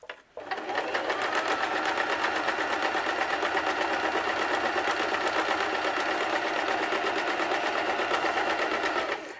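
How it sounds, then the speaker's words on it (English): A sewing machine stitches a Viking-style fabric hood in one loud, steady, continuous run lasting most of the time, starting abruptly and stopping at the end, with no talk. "Now that gets you your major part of the sewing done"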